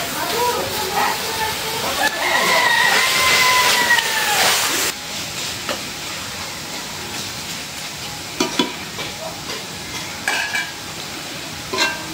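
Bhuta shak greens are stirred and fried with a spoon in hot oil, giving a steady hiss and sizzle with scraping and clinks, while someone talks over it.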